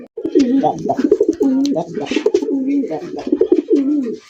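Fancy racer pigeons coo close by in a continuous run of throaty, rolling coos, several overlapping and pulsing rhythmically.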